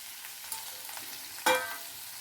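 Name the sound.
methi (fenugreek) leaves frying in a pan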